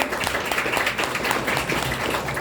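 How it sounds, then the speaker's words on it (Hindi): A college audience in Pune applauds loudly at an entrepreneurship talk, with dense, steady clapping filling the hall throughout and no voices rising above it. "सबके लिए जोरदार ताली।"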